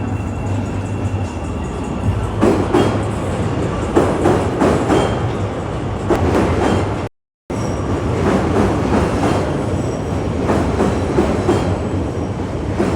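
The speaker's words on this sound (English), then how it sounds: "There goes the Chicago train." A Chicago elevated train rumbles past nearby at night, with rhythmic clattering of wheels on rails, a steady loud roar that briefly cuts out midway.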